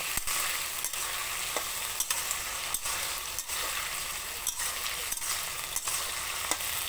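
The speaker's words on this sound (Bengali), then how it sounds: "এটা আমি এখন নেড়ে নেব একটু।" Ginger and garlic paste sizzles steadily in a pan while a spoon stirs it with regular scraping clicks, close and continuous, no talking.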